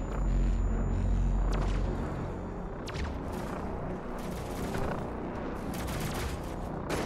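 The huge BFG-10,000 cannon firing in Doom Eternal, a deep, heavy blast that rolls into a series of booming, crackling impacts and rumbles, loud and close with no talk.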